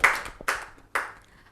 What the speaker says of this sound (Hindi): इस हिम्मत के लिए एक बार जोरदार तालियां हो जाए।